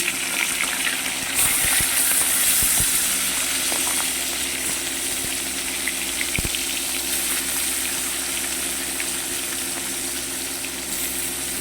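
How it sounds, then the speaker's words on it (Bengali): Continuous loud sizzling of tangra fish frying in hot oil, with a few sharp pops and crackles near the start, no voices. "এবারে আমি মাছগুলো ভেজে নেব"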